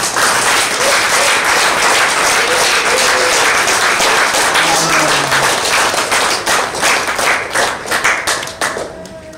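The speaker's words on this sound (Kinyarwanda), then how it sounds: "Reka tugukomere amashyi." Applause at a church worship service, many hands clapping steadily and loudly for several seconds, then thinning into scattered claps toward the end.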